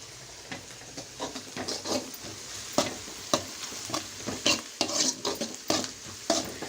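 Onions sautéing in a pan for a Chettinad crab gravy give a steady sizzle and hiss, broken by repeated scraping and clinking strokes of a stirring spoon against the metal.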